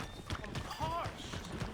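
Horse hooves clop in Red Dead Redemption 2 as a horse arrives, with several soft, evenly spaced footfalls under quiet game ambience.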